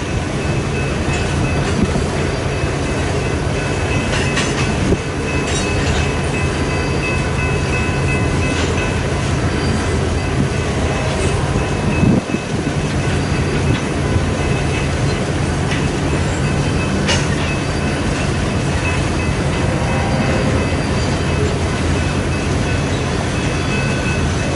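A freight train rolls past in Fremont, Nebraska, a steady close rumble of cars and wheels carrying on for the whole stretch, with occasional metallic clacks and squeals over the continuous roar.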